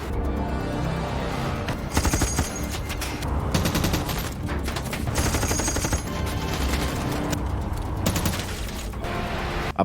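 Dense, sustained bursts of automatic gunfire from a masked crew of four former special forces soldiers advancing on a mining area, loud rapid cracks overlapping in waves with brief lulls between volleys.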